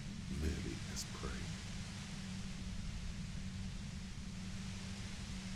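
Constant white-noise static from the game Disco Elysium, a broad, even hiss that continues throughout, with brief faint rustles near the start and a low steady hum underneath.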